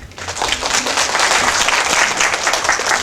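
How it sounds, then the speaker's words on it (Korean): A crowd at a Korean university campus recruitment briefing claps for a guest speaker, a dense, sustained burst of applause that swells quickly and holds steady and loud. "박수 한번 주셨으면 좋겠습니다."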